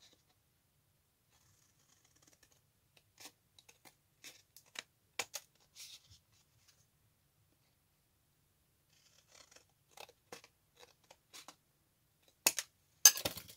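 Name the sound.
scissors cutting a paper card base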